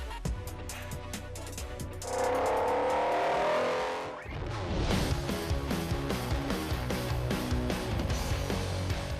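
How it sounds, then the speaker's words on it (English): Rally cars with turbocharged four-cylinder engines on snowy mountain passes above Monaco during the Monte Carlo Rally, loud and continuous: an engine swells and revs near the middle, then a dense, busy roar of motors carries on to the end, with no voices. "the hills of the French Riviera surrounding Monaco are reverberating with the sound of forced induction, explosive four cylinders, and the scrape of snow tyres sliding across mountain passes"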